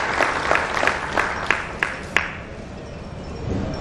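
An audience at an award function claps, with a run of distinct, evenly spaced claps that settle into a softer, scattered patter.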